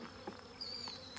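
Honeybees buzz around an open hive during an inspection, a faint, thin, steady hum with a few bees droning briefly closer to the microphone.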